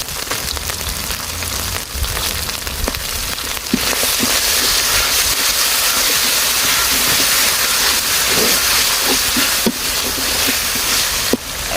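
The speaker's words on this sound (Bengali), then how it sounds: "এখন দিয়ে দিতেছি পেঁয়াজ বাটা" Onion paste hits hot oil in a pan for a village-style chicken curry with new potatoes, setting off a loud, dense, rain-like sizzle that swells after a few seconds and crackles on steadily.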